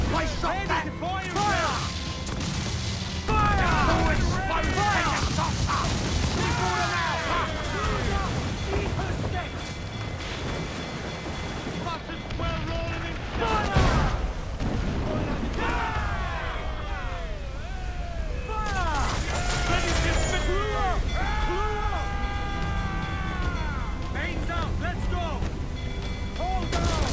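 Naval cannon fire during a ship battle in Assassin's Creed IV Black Flag: repeated heavy booms and crashes over roughly half a minute, mixed with shouting voices and music in a dense, loud battle scene.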